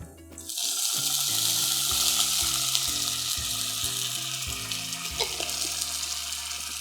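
Water hits garlic frying in a pan, bursting into a loud, bright sizzle that stays hissing steadily with faint stirring clinks, close up.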